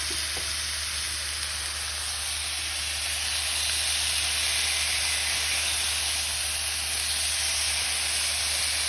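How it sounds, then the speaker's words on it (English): Chicken thighs sizzle steadily in a heated cast iron skillet, a loud, continuous hiss of frying with no break, close up and without voices. "I'm going to take the chicken thighs and place them in the heated cast iron skillet"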